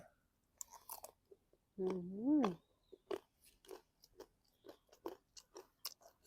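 Crunchy squid is chewed close to the mic, making a run of wet crackling bites separated by short pauses, with a brief murmured voice partway through.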